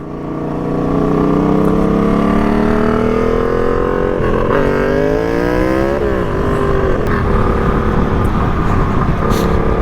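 A turbocharged car engine hums loudly from inside the cabin while driving on a freeway on a chilly day, its pitch climbing steadily through gears with brief shifts, over constant road and wind noise.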